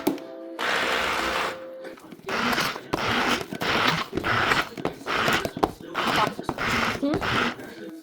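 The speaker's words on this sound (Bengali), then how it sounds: "তো ভেজানো হয়ে গিয়েছে, আমি এখন ব্লেন্ড করে নিচ্ছি।" A blender pulses soaked ingredients for an Arabic-style chicken pie in a home kitchen. Loud, gritty whirring comes in about seven close bursts, each roughly a second long, with short pauses between them.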